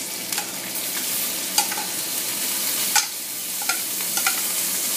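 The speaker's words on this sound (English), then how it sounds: "Now I'm going to add in the rice." Rice for pork fried rice being stir-fried in a pan, a steady sizzle with scattered scrapes and clicks of a utensil against the pan, close and fairly quiet, with no talk.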